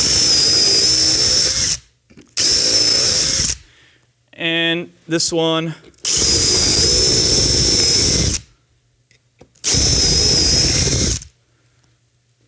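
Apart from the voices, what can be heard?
power drill drilling holes through bumper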